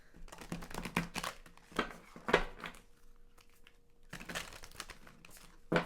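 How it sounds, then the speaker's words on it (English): A large oracle card deck being shuffled by hand, giving bursts of papery riffling and crinkling in uneven clusters, close and fairly quiet, with a brief lull partway through. "It's so hard to shuffle because it's huge."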